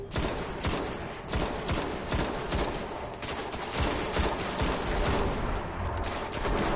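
Continuous rapid gunfire in a Destiny Crucible competitive PvP match, a dense steady fusillade of overlapping shots with no letup, loud and close.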